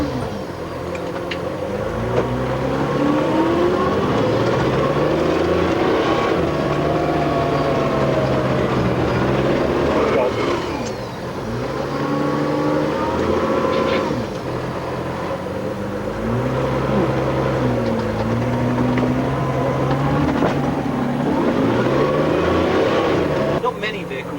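A Triumph TR sports car descends a steep slope, its engine a close, rumbling drone that shifts in pitch as it slows and revs, with people talking over it.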